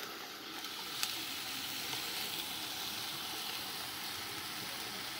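Canned Libby's corned beef browns in a pan with sofrito, giving a steady, even sizzle and fry hiss throughout with one faint tap.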